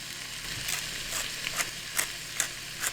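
Onions seasoned with salt and pepper cook in about three tablespoons of olive oil on an induction cooktop at medium-high heat, giving a steady low sizzle with soft scraping stirs recurring every half second or so.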